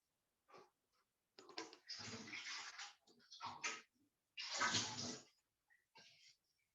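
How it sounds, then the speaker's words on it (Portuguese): Water runs and splashes onto a baking pan as it is wetted before being floured for gluten-free baking, in several close bursts separated by short silences. "eu vou molhar a forma e enfarinhar"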